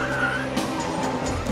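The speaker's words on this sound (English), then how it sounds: "And then he spins again." A car spinning out on a race track, with tyres skidding and squealing in a brief, sustained screech under engine noise.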